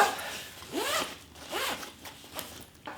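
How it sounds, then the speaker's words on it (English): A zipper drawn shut along a travel compression packing bag, heard close and crisp as a few quick rasping pulls in succession, with no talking. "So now we'll zip it up"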